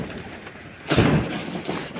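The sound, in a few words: pigeons cooing at a home pigeon farm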